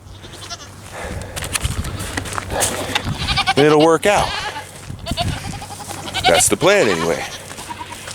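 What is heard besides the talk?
goats bleating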